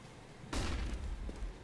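A single muffled boom of gunfire through a wall in the video game Counter-Strike: Global Offensive, a sudden broad burst followed by a rumbling low tail, heard alone.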